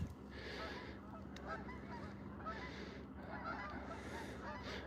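Geese honking repeatedly beside a trout stream in New Jersey, a loud, continuous chorus of overlapping calls against steady outdoor background noise.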